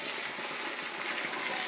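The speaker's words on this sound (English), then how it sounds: "We're going to pour them out." Cooked ravioli and their cooking water pour into a colander in a home kitchen, a steady, soft rushing gush of water that runs without a break.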